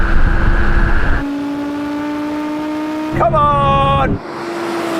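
An Audi R8 accelerates hard in a drag race, its engine note climbing through gears with a sharp upshift near the end, loud and close under an excited shout.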